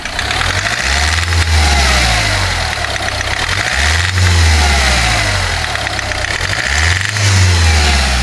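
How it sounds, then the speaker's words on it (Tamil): A Hyundai i20 car engine is revved to about 2500 RPM three times, each loud rising surge falling back to a steady idle, close by with no talk. "இப்போ ஆர்பிஎத்தை ஒரு 2500 ஆர்பிஎத்துக்கு ஒரு 2-3 டைம் ரைஸ் பண்ணி எடுக்கிறேன்"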